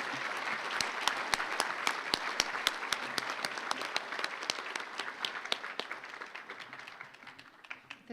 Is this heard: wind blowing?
no